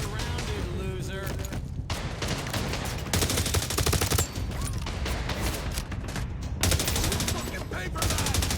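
Dense gunfire from a firefight in The Division Resurgence video game, overlapping rapid bursts and single shots running almost without pause, loud and busy, with voices shouting through parts of it.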